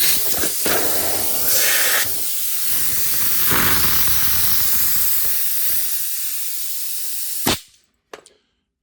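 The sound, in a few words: compressed air spraying through prop spitter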